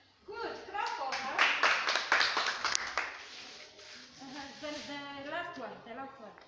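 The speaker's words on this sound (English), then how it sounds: "Good, clap for her." A short round of clapping from a small group of children rises and fades within a few seconds, with voices talking over and after it.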